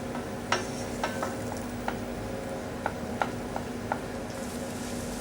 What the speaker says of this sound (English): Stirring continuously to prevent lumps.